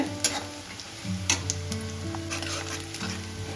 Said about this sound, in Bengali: পেঁয়াজটা ভাজা হয়ে গেছে ব্রাউন কালার চলে এসছে